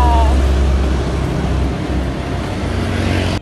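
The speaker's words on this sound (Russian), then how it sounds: "Автобусная остановка." Road traffic passing a bus stop in Asia, a continuous loud wash of car and engine noise with a low rumble, steady throughout.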